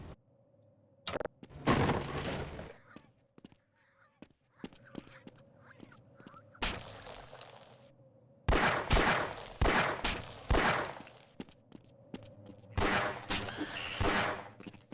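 Gunfire in the Half-Life video game, with bursts of sharp shots coming in clusters separated by short quiet gaps, loud and close, with no talking over it.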